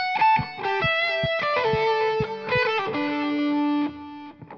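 Electric guitar fill from an instrumental, measure 39, played over a backing track: quick rising and falling note runs with bends and sustained distorted tones, close and loud, no voices.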